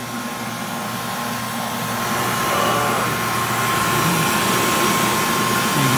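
Vacuum pump pulling vacuum on a two-ton HVAC system, a loud, steady motor drone with a constant whining tone that holds unchanged throughout, with no voices.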